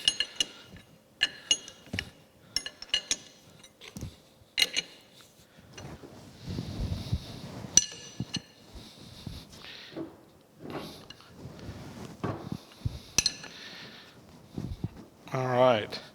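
Bolts are tightened on the reducing shaft of a New Haven metal planer, with scattered metallic clicks, ratcheting and clinks close by, broken by quieter gaps, while someone talks at points.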